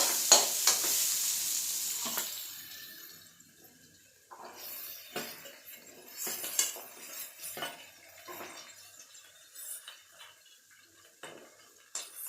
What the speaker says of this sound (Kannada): ಇದಾಗವರಿಗೆ ಮತ್ತು ಸಾಫ್ಟ್ ಆಗೋವರಿಗೆ ಚೆನ್ನಾಗಿ ಫ್ರೈ ಮಾಡ್ಕೊಬೇಕು